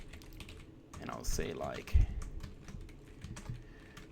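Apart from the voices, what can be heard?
typing code on a computer keyboard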